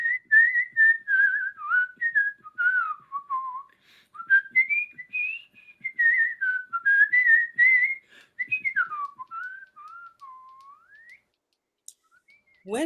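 A person whistles a wavering, sliding melody alone, clear and close, with short pauses between phrases before stopping near the end.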